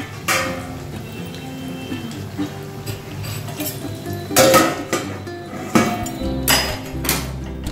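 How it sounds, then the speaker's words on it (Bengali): A lid set down on a kadai while lentil fritters fry, giving several loud metallic clanks and clinks in irregular bursts close by, over a quiet frying background with no talking. "এবার আবার আমি ঢেকে দিচ্ছি।"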